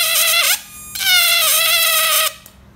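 An electric fish-shocking device buzzes with a loud, bright, shrill electronic whine in two bursts, its pitch wavering, with a short quieter gap between and a fade to faint hum at the end.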